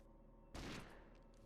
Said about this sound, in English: shoot the wall signs in this room with the Defender pistol